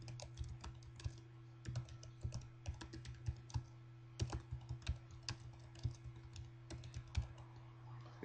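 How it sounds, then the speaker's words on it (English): Steady computer-keyboard typing while entering subtitles in Aegisub, a run of quiet, irregular key clicks spread over several seconds, with no voices and a faint constant hum underneath. "So now you go into this box and type the subtitle that you want."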